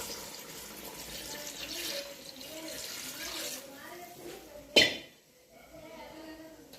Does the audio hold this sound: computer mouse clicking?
no